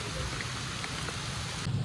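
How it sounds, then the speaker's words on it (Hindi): Steady monsoon rain falls during a trek to Dudhsagar Waterfall, a dense continuous wash of drops with a low rumbling undertone that grows briefly heavier near the end, with no voices. "बारिश ने और मतलब हमारे लिए मुसीबत खड़ा कर दिया"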